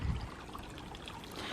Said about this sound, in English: we have the water fountains all bubbling away happily.